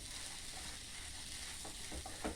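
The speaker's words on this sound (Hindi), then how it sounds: "अब ये मटर हमारी भुन चुकी है।" Green peas roast in a pan for matar kachori filling, a quiet continuous sizzle with a few light scraping stirs near the end, no voices.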